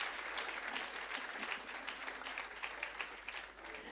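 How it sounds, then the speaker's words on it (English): Applause from an audience at a Jamaica Civil Service long service awards ceremony, honouring the award recipients: steady, dense clapping that continues throughout without a break. "will we give the recipients a thunderous round of applause"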